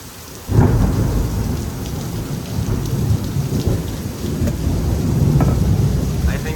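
Heavy rain pours steadily while deep thunder rumbles and rolls through a lightning storm in Houston, Texas, loud and enveloping from start to finish.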